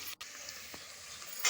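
Vegetables and spices frying in hot oil for veg palao or curry, a steady soft sizzle that carries the whole way through, with a brief dropout near the start and a brighter burst of hiss at the end.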